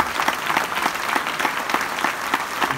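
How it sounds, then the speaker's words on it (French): Audience applause at a conference in Castelmaurou, a steady dense patter of many hands clapping together without a break. "bravo, on peut applaudir tous ces témoignages."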